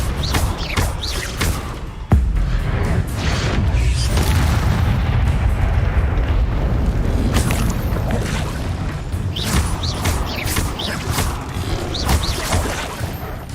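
Incendio fire spell in Hogwarts Legacy, a sustained roaring burst of flame with rumbling booms and crackling impacts, loud and continuous, no talking.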